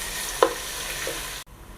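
Onions drop into hot oil with cloves, green cardamom and bay leaf, giving a quick splash followed by a steady soft sizzle and a stir, close by; the sound cuts off abruptly near the end.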